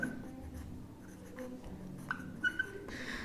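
Pen or pencil writing by hand on paper during an accounting lesson, soft scratchy strokes in short bursts, close and quiet, with faint room noise.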